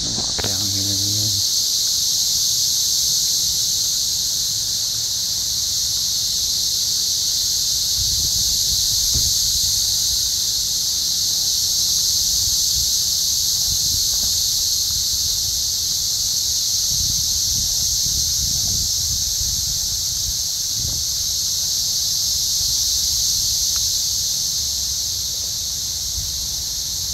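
Dense, continuous high-pitched buzzing of a cicada swarm near a forest in Columbia, Missouri, loud and unbroken throughout, with faint rustling and low sounds like footsteps underneath.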